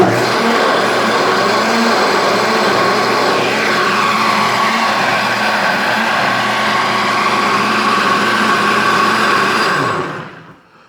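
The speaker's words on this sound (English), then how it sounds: "this is the Larinest 1200 watt blender" A Larinest 1200 watt blender runs continuously on blueberries, banana and milk for a smoothie, a steady loud whirring drone with a slight pitch shift midway, then spinning down and stopping near the end.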